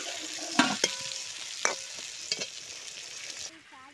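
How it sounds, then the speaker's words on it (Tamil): Onions and tomatoes sauté in a pan for a pomfret fish gravy, giving a steady close sizzle with a few sharp spoon scrapes and clinks against the pan, and no talk. "வெங்காயம் வதங்கிருச்சு, தக்காளியும் கூடையும் சேர்த்துக்கலாம்."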